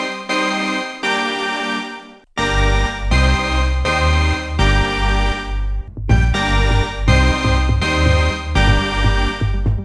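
Layered distorted saw-wave synth with vibrato, bright and loud, playing a sequence of sustained notes with a brief break after the first two.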